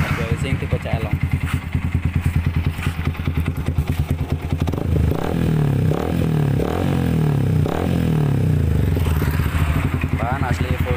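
A motorcycle engine runs through an F2racing CL Long stainless steel SS304 exhaust, a loud close pulsing idle that deepens into a heavier, rumbling rev midway, with clatter and a voice talking over it.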